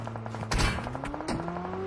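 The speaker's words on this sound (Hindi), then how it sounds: "भाई क्या ही बंदे फायर कर रहे हैं एकदम से" Gunfire in a video game crackles in a couple of short bursts over a steady tonal backdrop of game music and engine hum, moderately close and brief.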